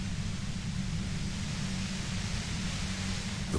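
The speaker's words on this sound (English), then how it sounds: "The violent white noise becomes even more overwhelming closer to the compressor" Broad, dense white noise roars near a compressor in the Disco Elysium video game, a steady, harsh hiss with a heavy low rumble that fills the whole space without pause.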